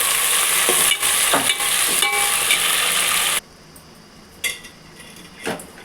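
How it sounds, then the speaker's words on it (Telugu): Green and dried chillies, curry leaves, garlic and chopped tomatoes sizzle loudly in a hot pan with stirring scrapes, then the frying drops to a quieter hiss with occasional utensil clinks. "పచ్చిమిర్చి ఎండుమిర్చి కరివేపాకు వెల్లుల్లిపాయ అలాగే ముందుగా కట్ చేసుకున్న నాలుగు టమాటాలు ఇవి బాగా మగ్గనివ్వండి"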